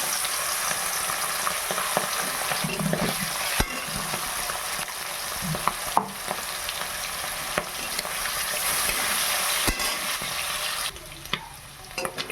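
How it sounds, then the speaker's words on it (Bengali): Marinated prawns coated in salt, turmeric and chilli powder fry in hot oil, a steady close sizzle with occasional sharp crackles and stirring scrapes throughout, no voices. "এবার ওই তেলে দিয়ে আমি চিংড়ি মাছগুলো ভেজে নেব।"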